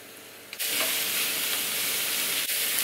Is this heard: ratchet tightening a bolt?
no